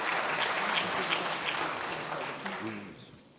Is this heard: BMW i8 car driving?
no